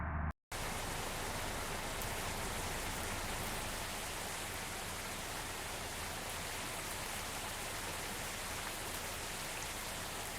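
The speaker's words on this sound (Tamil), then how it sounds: "வண்டி வாட்டர் வாஷ் பண்ணணும்" Bus being water washed in the Bus Simulator Indonesia video game: a steady, loud, even hiss of spraying water runs without a break from start to end after a very brief silent gap at the beginning.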